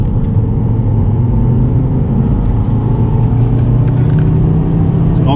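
A car is driven on a freshly fitted set of new tyres after a visit to a tyre service, with a steady loud low rumble of engine and road noise heard from inside the cabin.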